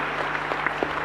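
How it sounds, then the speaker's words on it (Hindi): An audience claps at a spiritual talk, a brief steady patter of many hands with a few sharper claps and no speech. "हाँ ताली बजा लो आप पहले एक बार"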